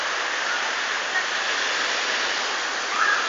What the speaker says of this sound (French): C'est en train de tomber une rincée